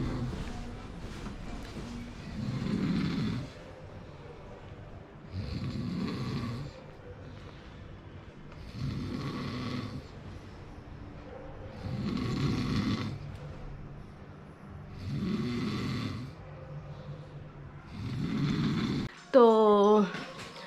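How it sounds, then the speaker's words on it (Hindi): A person snores loudly in a slow, regular rhythm of about seven deep rasping breaths spread evenly over twenty seconds, with a brief burst of other sound at the end. "इतनी तेज़ की खर्राटे ले रहा है"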